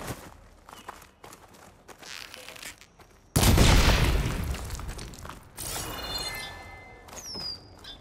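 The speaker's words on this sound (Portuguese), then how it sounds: "Talvez uma de explosão?" In the video game Horizon Forbidden West, soft footsteps and mechanical clicks give way to a sudden, loud explosion whose booming blast and shattering debris trail off, followed by scattered tinkling fragments and clatter.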